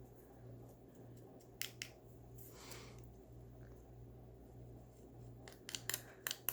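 Small, quiet snips of scissors trimming paper for a craft project come in short clusters over a low steady hum, faint and close, with no talking.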